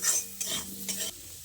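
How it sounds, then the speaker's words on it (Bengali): Fried potatoes and cauliflower leaves are stirred with salt in a pan. Three or four scraping strokes come in quick succession over a soft sizzle, close by, with no talk. "নুনটা দিয়ে ভালো করে নেড়ে চেড়ে মিশিয়ে নিচ্ছি"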